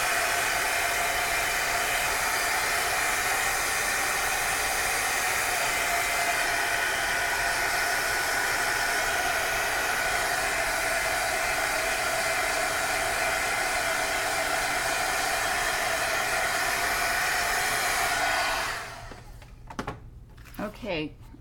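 A hair dryer blows steadily and loudly for a long stretch over sprayed glitter artwork, then cuts off, leaving brief handling noises and a voice.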